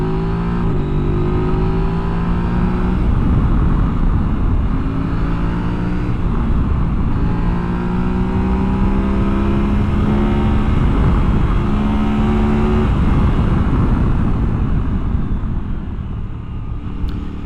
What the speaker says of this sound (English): it actually has a pretty nice little exhaust note to it.